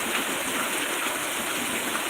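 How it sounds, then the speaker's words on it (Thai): Heavy rain falling at a home, a dense, steady hiss of downpour filling the short stretch, loud and continuous with no voices. "ฝนตกฝนตกจ้า"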